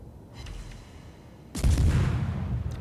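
Warship shell fire in World of Warships: a faint distant boom early on, then a loud heavy blast around the midpoint with a rumbling tail, no voices.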